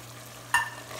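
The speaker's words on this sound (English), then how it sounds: "just mix it, stir it" Goat stew with tomato sauce is stirred in a pot, giving two short scraping, sizzling strokes over a low simmering hiss.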